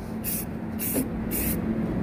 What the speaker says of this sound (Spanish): En el día de hoy estoy luchando con este spray.